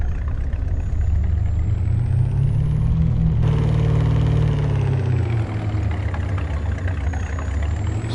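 Truck engine with a bench seat, running steadily in the Farming Simulator 25 video game, a loud continuous low rumble whose pitch rises slightly and then falls back as the revs change, with no talk over it.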